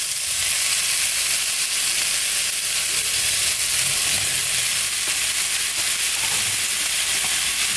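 Chicken sausage sizzling and browning in a pot for Cajun jambalaya, a loud steady frying crackle that continues without a break, with no voices.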